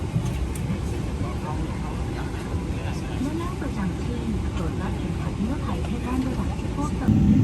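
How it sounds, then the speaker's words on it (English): Steady low cabin rumble inside a Boeing 777-300ER airliner waiting before takeoff, a continuous broadband drone of engines and air systems with faint murmuring in the background. "We are about to take off"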